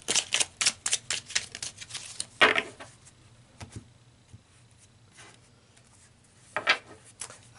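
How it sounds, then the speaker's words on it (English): Tarot cards are shuffled and drawn close up, with a quick series of crisp riffling flicks and then scattered softer slides and taps as single cards come off the deck. No voices are heard. "let's pull another card."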